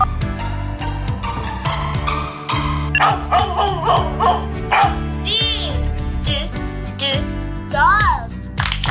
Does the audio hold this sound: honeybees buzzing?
no